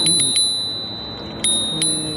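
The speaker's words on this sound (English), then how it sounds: "this is a similar bell to the Levy" A bell on a VSETT 8 electric scooter rings with sharp, bright dings, two quick pairs separated by a pause, close and loud with a ringing decay.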